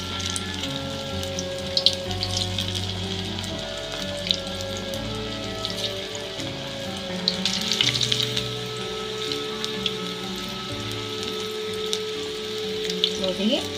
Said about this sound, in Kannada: ಎಣ್ಣೆ ಒಳಗೆ ಹಾಕ್ಕೊಂಡಿದ್ದೀನಿ.